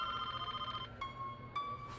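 A telephone rings in a scene from a Hindi-dubbed film, with a steady electronic tone repeating in short bursts and pauses that sounds close and fairly clear over faint background noise.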